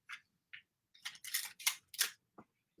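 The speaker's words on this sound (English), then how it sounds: "you're going to tape the skewer onto the end" Tape is pulled and pressed onto a wooden skewer in short, crisp bursts: a few brief ticks, then louder ripping and crackling strips, close and clear with no talk.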